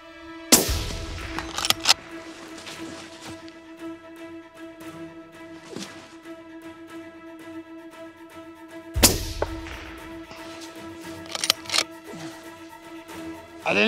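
Rifle shots at long-range hunting practice: two sharp, loud cracks about eight seconds apart, each with a ringing tail, over a steady background hum.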